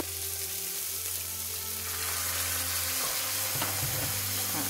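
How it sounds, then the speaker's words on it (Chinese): Gourd pieces stir-fried in a hot wok, a steady loud sizzle with scraping stirs. The frying swells and crackles more sharply in the last couple of seconds, and nobody speaks. "我哋又可以抌埋呢啲瓜落去啦，又炒炒佢啦"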